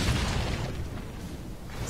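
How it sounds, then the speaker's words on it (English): Grenade blasts in the horror shooter Clive Barker's Jericho, a loud, continuous low rumble of overlapping booms with no clear gaps between them, filling the whole stretch. "Start spamming grenades."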